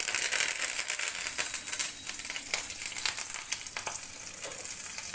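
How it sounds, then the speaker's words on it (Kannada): Curry leaves dropped into hot oil for tempering, with onions about to follow for a chicken curry, crackle and sizzle loudly and steadily with dense spitting pops throughout, no voices. "ನೋಡಿ, ಕರಿಬೇವಿನ ಸೊಪ್ಪು ಹಾಕ್ತಾಯಿದ್ದೀನಿ."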